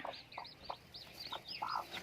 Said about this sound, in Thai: ก็คือเป็นน้องไก่ป่านะคะ